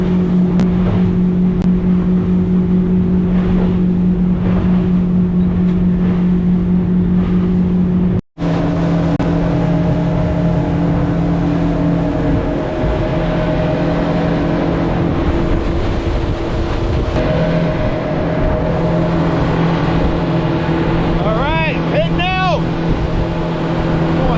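Boat engine running hard as the boat launches off its trailer, a loud droning hum that cuts off briefly and then resumes with churning, rougher engine and water noise, with a voice speaking over it.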